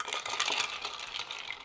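A bar spoon stirs a Hanky Panky cocktail over ice in a mixing glass, giving a close, continuous rattle and clink of ice cubes against the glass for under two seconds.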